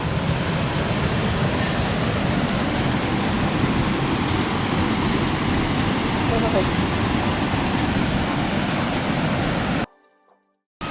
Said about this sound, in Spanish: ya estamos llegando a la última catarata